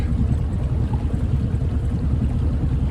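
Outboard engine of a 1969 Glasspar Tacoma 14 boat running on the water, a steady low droning rumble close by with a faint wash of water, no voices.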